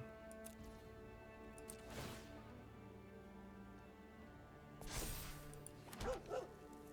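A dog barks a few times in the background, with short sharp yaps near the two-second and five-second marks and a pair of quick yips near the end, fairly faint beneath steady room hum.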